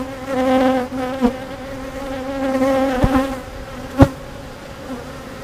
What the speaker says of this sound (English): finally the bees from number 1 are starting to chill out. They're still buzzing me a little, but not as bad.